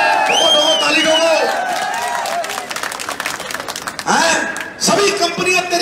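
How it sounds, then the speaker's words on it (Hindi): A crowd at a political rally in Bilaspur claps and cheers beneath an amplified speech, the applause and whoops rising in bursts under the continuous voice. "तो दो ताली दो"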